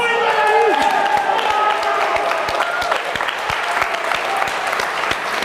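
An indoor audience breaks into loud, sustained applause after winners are announced, the clapping steady and close, with a voice speaking over its start.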